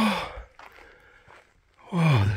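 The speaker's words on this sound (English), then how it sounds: "Pay no attention to the old breathing hard man." A man breathes heavily after climbing to the top of a sandstone cliff at El Morro National Monument, New Mexico: a strong exhale, quiet shallow breaths, then another loud sighing breath, close to the microphone.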